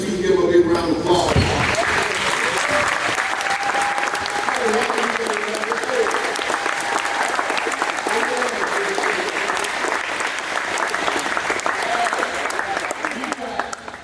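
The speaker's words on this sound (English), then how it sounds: "Stand on your feet and give him a big round of applause." A crowd at a youth basketball camp breaks into sustained, loud applause and cheering after a brief opening moment, holding steady with scattered shouts.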